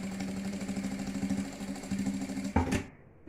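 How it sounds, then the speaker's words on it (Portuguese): A sewing machine runs a steady, rapid, rhythmic stitch along a seam through the fabric lining of a round cosmetic case, then stops abruptly near the end. "Vou passar uma costura em cima dessa que eu acabei de fazer."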